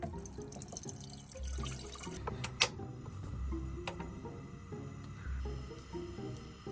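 Water runs and drips into a bowl for making Buldak ramen, a steady moderate trickle with scattered drips and light clinks over several seconds.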